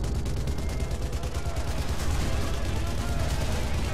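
Rapid, sustained machine gun fire from the Sniper Elite V2 video game, a dense continuous stream of loud shots running steadily throughout without pause.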